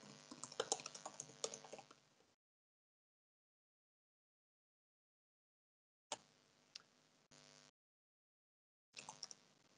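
Bursts of quick typing on a computer keyboard, close and quiet, with rapid key clicks at first, then long silent gaps broken by short flurries of keystrokes.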